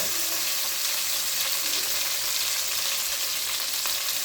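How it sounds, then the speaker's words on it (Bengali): Potatoes fry in a pan for khichuri with beef, giving a steady close hiss and crackle of hot oil with faint stirring, and no voices over it. "এই জন্য আমি আলুটা ভাজি করে নিচ্ছি।"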